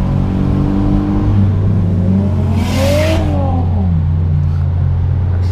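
A Lexus IS300 engine revs hard on a highway: a loud, close drone swells, climbs in pitch and falls back, with rushing wind throughout.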